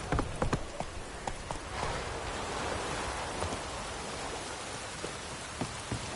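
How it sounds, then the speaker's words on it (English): Rain falls in The Witcher 3, a dense, steady hiss of drops filling the scene, with a few sharp hoof clops early and late as a horse walks through it. "Looks like rain."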